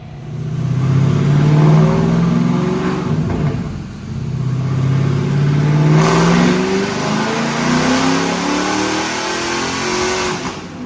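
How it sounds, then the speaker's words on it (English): A 7.3L Godzilla V8 engine swapped into a 1979 Ford F150 revs hard on a dyno and climbs in pitch, eases off briefly, then winds up again, a loud continuous roar close by. "Check out this dyno pull."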